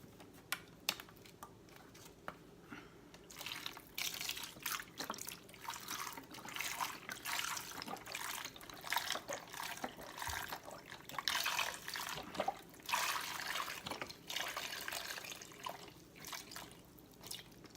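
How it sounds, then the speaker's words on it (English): Chicken stock from a can poured into a cooking pot along with a cinnamon stick, a steady splashing liquid pour lasting throughout with uneven gurgles and drips, close and fairly loud, no voices. "I'm going to add some chicken soup, chicken stock to it."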